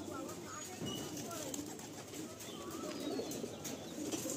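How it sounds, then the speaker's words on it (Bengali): Madrasi pigeons at a Kolkata pigeon loft coo in a low, steady murmur, with occasional wing flutters amid a busy, noisy background. "খুব ছটফটে পায়রা"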